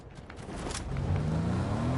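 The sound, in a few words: car driving off in a video game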